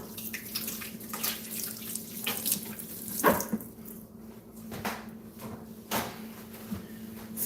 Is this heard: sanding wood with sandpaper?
no